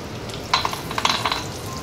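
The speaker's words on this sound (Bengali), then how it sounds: "এটাকে ভালো করে ভাজা ভাজা করে নিয়ে তারপর আবার দেখাচ্ছি।" Cashew nuts frying in ghee in a pan along with whole garam masala and bay leaf, a soft steady sizzle with a burst of crackling pops through the middle, near and fairly quiet.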